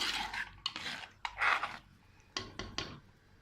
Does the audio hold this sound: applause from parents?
no